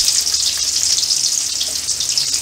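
Sliced okra frying in hot oil tempered with mustard seeds and urad dal, a dense, loud, continuous hiss of sizzling that holds steady throughout with no talking.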